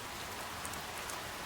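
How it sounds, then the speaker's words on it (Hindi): Heavy rain falls in a Hindi cartoon story: a dense, steady hiss of downpour fills the whole moment, with no voices over it. "बिजली कड़कती है, भारी बारिश होती है।"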